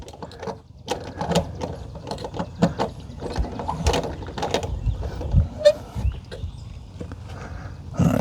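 A hose splitter is twisted tight onto an outdoor spigot, giving close, irregular ratcheting and grinding clicks of metal threads and plastic with scattered knocks, moderately loud and without talk.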